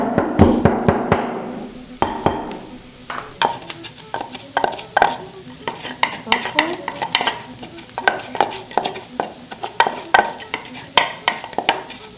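Onions frying in a pan until golden brown, stirred with a utensil that scrapes and taps rhythmically against the pan over a continuous close sizzle, no talking.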